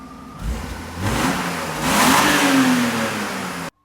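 A stock car engine revs before new headers and exhaust are fitted, rising in several surges from a low idle, close and loud, then cutting off abruptly.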